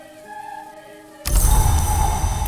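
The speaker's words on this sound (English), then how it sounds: "Rain, once more." Rain in the game Book of Hours switches on abruptly as a dense, broadband hiss of steady downpour, replacing a quiet tonal ambience that precedes it.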